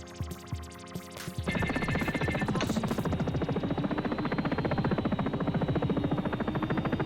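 A Sikorsky S76 helicopter in X-Plane 11 spins up for takeoff, its rotor settling into a steady, loud rhythmic thudding beat over a whining turbine drone that continues without a break.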